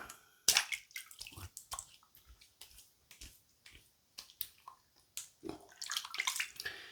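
Water splashed onto a face after a Nivea shave, with a run of quick wet slaps and splashes in close succession, some louder bursts near the start and end, no talking.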